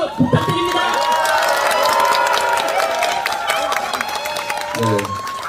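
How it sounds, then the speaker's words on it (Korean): A crowd at a press conference during a visit to Suam Market in Ulsan claps in welcome, a busy spread of hands with cheering and outdoor bustle, while a voice speaks over the noise. "힘찬 환영의 박수 부탁드립니다."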